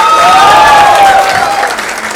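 A loud crowd at the SRK Fandom Awards 2016 claps and cheers continuously, with a whistle sounding over the applause near the start.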